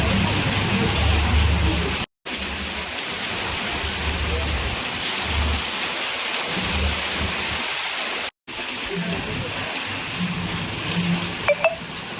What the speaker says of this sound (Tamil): பலத்த காற்றுடன் மிதமான மழை பெய்தது